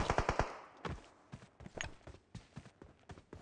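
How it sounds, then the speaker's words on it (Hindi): Rapid bursts of gunfire from the player's weapon in a mobile battle royale game, a quick volley of sharp shots followed by spaced single and double cracks, loud and close with no talking. "उस पर मैं फायर देता हूँ"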